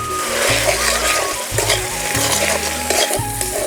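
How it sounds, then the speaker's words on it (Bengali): Spice paste of ginger paste, salt, turmeric and Kashmiri chilli powder sizzles and fries in a pan for a vegetarian aloo dum, with steady crackling and repeated scraping of a spoon stirring against the pan. "এই মশলাটা একটুখানি ভেজে নিলাম"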